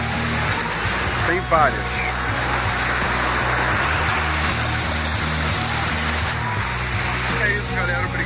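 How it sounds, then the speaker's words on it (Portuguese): A waterfall in Pedra Branca State Park gives a steady, loud, broadband rush filling the whole stretch, with someone speaking briefly over it. "Essa daqui é uma das cachoeiras do parque."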